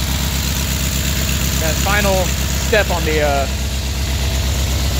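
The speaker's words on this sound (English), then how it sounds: "the motor is pretty revved up" A 1969 Volkswagen convertible engine idles fast on the choke while warming up, a steady near throbbing hum with a rapid regular pulse, as someone speaks briefly over it.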